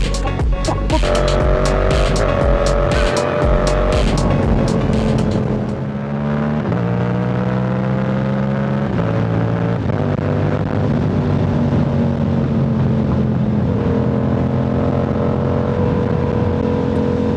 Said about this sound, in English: It's time to ride these beautiful bikes.